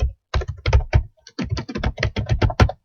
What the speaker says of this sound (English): you type in your comments.